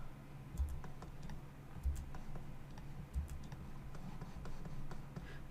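Computer keyboard keys tapped at a steady pace during 3D modeling work, light clicks with a few heavier thumps, fairly quiet against a low background hum.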